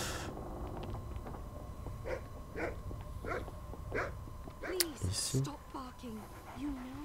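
A dog in a video game barks and yips in a short rhythmic series, then whimpers with rising and falling whines, at moderate level under a steady electronic tone, while someone speaks briefly.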